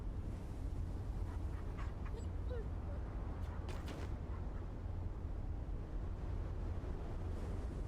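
A dog in the video game The First Descendant whimpers and pants, with faint high cries over a steady, loud low rumble of game ambience that runs throughout.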